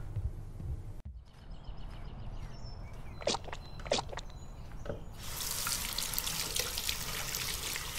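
A tap runs while hands are washed at a sink, a steady close rush of water with a few drips and clatters before the flow swells louder and fuller.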